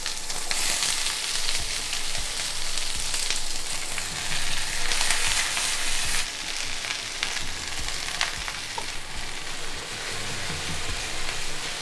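Vegetables and garlic fry in hot olive oil in a pot, with a loud, steady sizzle running throughout and occasional clinks and stirring scrapes, no one speaking.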